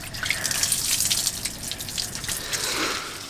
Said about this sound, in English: Technically all I'm really doing is washing my hair